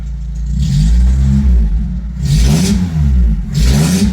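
A 1984 Toyota Tercel SR5 with transmission trouble revs its engine in second gear, giving a loud, close, steady mid-pitched drone with two strong rising surges and no talk.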